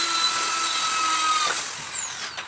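Close by, a power drill whines steadily as it drives a screw into a sliding door channel, its pitch shifting toward the end before the motor winds down.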